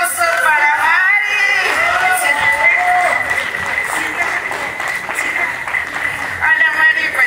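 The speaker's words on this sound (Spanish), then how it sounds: "Un fuerte aplauso para Mari" A crowd at a company founding celebration applauds a welcomed guest: dense, steady clapping with some whoops, loud and continuous for several seconds, with a voice calling out over the start.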